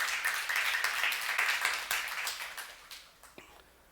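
A church youth congregation applauds during a sermon, a dense wash of clapping that stays steady, then thins and fades out toward the end.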